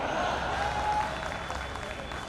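An audience at a Hindi comedy show applauds, a dense burst of clapping that starts loud and gradually thins over two seconds, with a faint voice under it.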